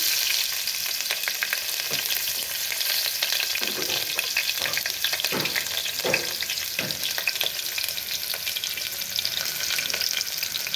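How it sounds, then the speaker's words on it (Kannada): Chopped onion frying in hot oil with spices for North Karnataka biranji rice, a continuous close hiss of sizzling with a few soft stirring scrapes partway through. "ಒಂದು ಅರ್ಧ ಈರುಳ್ಳಿ ಹೆಚ್ಕೊಂಡಿದ್ನಿ ರೀ ಅದನ್ನು ಹಾಕ್ತಾಯಿದ್ದೀನಿ"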